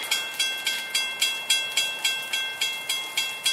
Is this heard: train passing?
yes